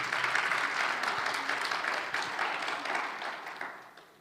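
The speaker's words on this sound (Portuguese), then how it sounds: "Dê um aplauso bem forte ao Senhor." A church congregation clapping loudly in praise, a full burst of many hands that starts strong and gradually fades out over a few seconds.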